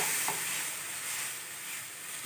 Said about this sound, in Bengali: ভালো করে আমি মশলাটাকে একটু কষিয়ে নেব কাঁচা গন্ধটা যাওয়া পর্যন্ত